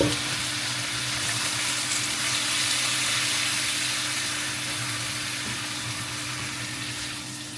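Marinated pork for Ilocano igado, seasoned with minced garlic and pepper, sizzles steadily in a hot pan, a continuous close frying hiss with faint stirring and no talk.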